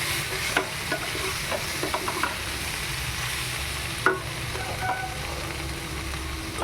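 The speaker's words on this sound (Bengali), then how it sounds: "ফুলকপির সঙ্গে মশলাটা আস্তে আস্তে করে আমি কষিয়ে নিচ্ছি।" Cauliflower being stir-fried slowly with spices for a home-style cauliflower and potato curry, a steady sizzle with repeated scraping and knocking of the spatula, one sharper clack midway, close with no speech.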